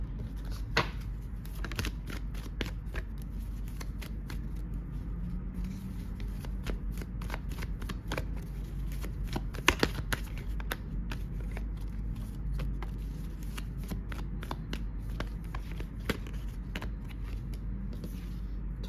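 Tarot cards shuffled by hand close up, a long run of soft riffling and flicking with frequent sharp card snaps, steady throughout over a low background hum, with no talk.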